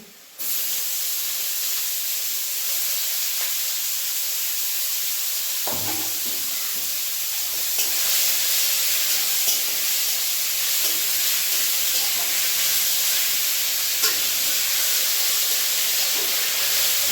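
Radish greens dropped onto fried onions in hot oil set off a loud, steady sizzle that jumps after a quiet start and hisses continuously close up, with faint clinks of stirring.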